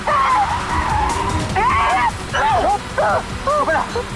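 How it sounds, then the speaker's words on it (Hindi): A getaway car in a bank-robbery chase speeds off. Loud, sustained engine roar runs under repeated squealing tire skids that rise and fall in several bursts, close and intense throughout. "अबे गाड़ी जल्दी भगा"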